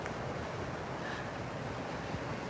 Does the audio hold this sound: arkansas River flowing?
yes